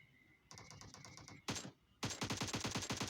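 Automatic gunfire in a battle royale video game, rapid bursts of shots with short pauses between them, loud and close, with no talking over it.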